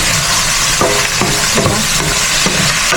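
Tuna spaghetti sauce is stirred in a frying pan over a steady loud sizzle, with a utensil scraping and clacking against the pan every half second or so.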